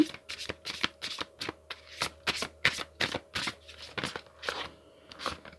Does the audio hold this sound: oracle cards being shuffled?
yes